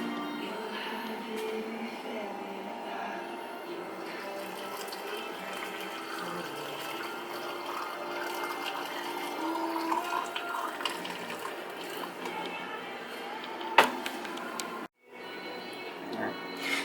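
Water pours steadily into canning jars packed with carrots, a continuous running, splashing fill at moderate level that carries on for most of the stretch before a brief break near the end.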